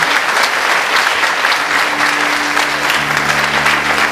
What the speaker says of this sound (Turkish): Süper, bir alkış Meryem.